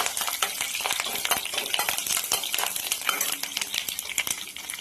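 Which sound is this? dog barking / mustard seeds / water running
mustard seeds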